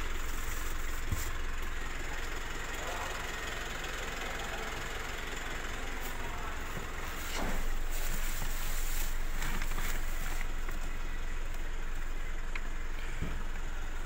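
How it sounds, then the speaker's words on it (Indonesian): Mitsubishi Triton GLS facelift pickup, a 2019 model, with its engine running, giving a steady, fairly loud idle rumble with a slight knock that lifts a little in level partway through, with no voices. "Ini dia suara mesinnya."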